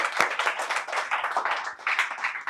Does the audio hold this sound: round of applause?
yes